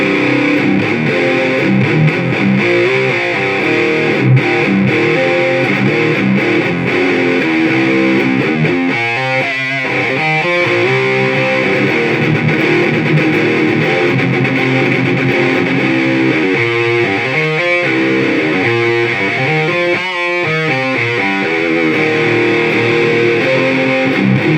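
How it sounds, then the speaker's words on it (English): Distorted electric guitar played through a smaller guitar cab wired with four different speakers, thin on low end; a loud, continuous fuzzy wash of chords and riffs with no talking. "not the best distortion I ever heard"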